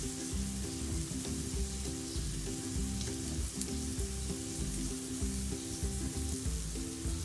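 A milk and sugar paratha fries in a pan, sizzling steadily and evenly at close range throughout, with no voices over it.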